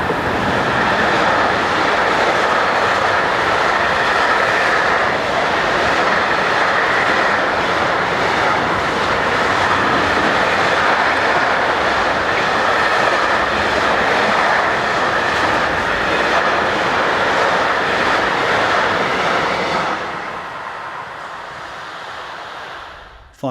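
Crossrail class 185 unit 185580 passes on a June evening, a loud, steady rush of rail and motor noise that holds for about twenty seconds, then drops away sharply as the train clears.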